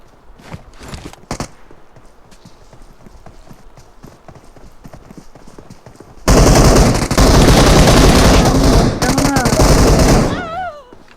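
Gunfire in a PUBG Mobile solo-versus-squad match erupts loud and sustained for about four seconds of rapid bursts, following quieter stretches of in-game sounds with brief voice exclamations.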